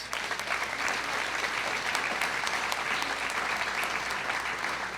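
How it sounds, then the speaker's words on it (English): An audience at a county junior fair royalty contest and opening ceremony gives an extended round of applause for thirteen young contestants, a steady, moderately distant patter of many hands without letup. "How about one more round of applause for these 13 kids?"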